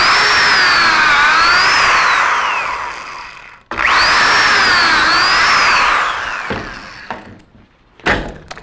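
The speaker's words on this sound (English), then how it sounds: "We'll demonstrate drilling some pocket holes with the rocket." Drilling pocket holes with a Kreg Rocket jig clamped to a wooden workpiece: two long whining drill runs that rise and fall in pitch as the bit bores in, each ending abruptly, followed by brief clunks of handling.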